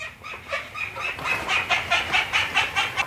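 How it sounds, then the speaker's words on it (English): Ducks quack in a steady series of calls, close and fairly loud, with a quick rhythmic pattern that picks up and repeats over a few seconds. "Ducks are talking to me in the background"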